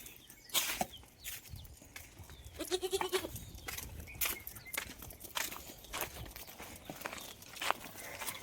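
Goats out grazing give a short bleat amid a quiet outdoor scene full of rustling and footsteps, with scattered clicks and soft movement noises at a moderate distance.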